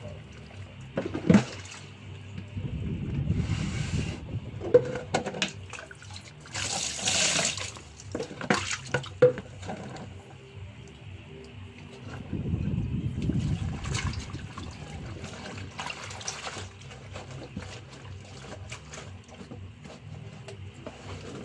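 Clothes being hand washed in water for a second rinse: bursts of sloshing and splashing come in irregular clusters, with drips and trickles between them, moderately close and fairly quiet, no talking.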